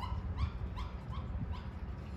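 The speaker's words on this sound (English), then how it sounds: "You hear that dog?" A dog whimpers and yips faintly in the background while a 1998–2002 Honda Accord coupe sits in a garage for repair. Several short, high, rising whines repeat at an uneven pace under low steady noise.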